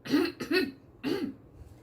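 Three short throat-clearing rasps, close and fairly quiet, in a quick uneven rhythm with brief pauses between them.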